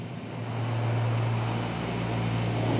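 Inside a military transport plane approaching a parachute drop zone, engines drone in a loud, steady low hum with a constant tonal note and broadband roar that swells slightly and holds.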